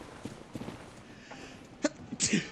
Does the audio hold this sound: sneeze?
yes